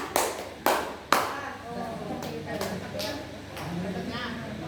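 Three quick, crisp hand claps in steady rhythm during a counting exercise in a numeracy lesson, followed by an adult voice speaking close by.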